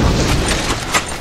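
A fuel rod cannon shot bursts in Halo 4 multiplayer as one loud, close, low boom with a short rumbling tail and a small thump near the end.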